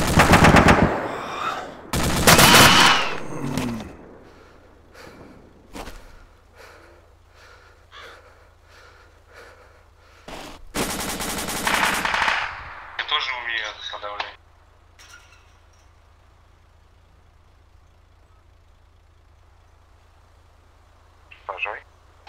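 Machine gun fire in the military shooter game ArmA 2 with the ACE mod comes as two loud, close bursts of rapid shots, followed by scattered single cracks, faint radio-like sounds and breathing over a quiet background.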